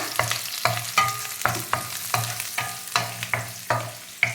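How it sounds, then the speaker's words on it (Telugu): Onions fry in a little oil over a medium flame for fried rice, with close sizzling and a spoon stirring in regular scraping strokes about twice a second. "ఎర్రగడ్డలు కొద్దిగా ఆయిల్లోనే మనం కొంచెం మీడియం ఫ్లేమ్ పెట్టుకొని"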